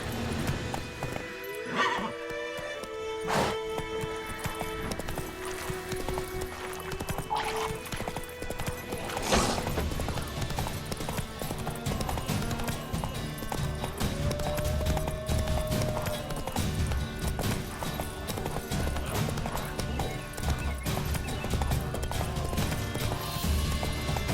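A horse in The Witcher 3: Wild Hunt gallops with a steady clip-clop of hooves and gives loud whinnies and neighs, heard over game ambience with a little talk at times.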